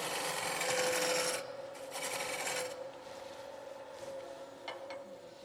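Woodturning gouge riding the bevel against spinning wood on a lathe, a rough rasping cut in two bursts over a constant motor hum, then fainter scraping with a couple of light ticks.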